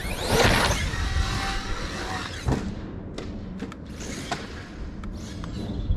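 A Traxxas Sledge RC car being driven, its motor whirring and rising at first, then followed by thumps, clicks and rattles from the chassis as it moves close by.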